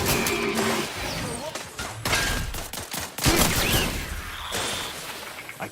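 Rapid bursts of weapon fire from The Outer Worlds 2 crackle loudly over a dense game soundscape, with sharp impacts, clatter and electronic tones, and voices speaking over the shooting.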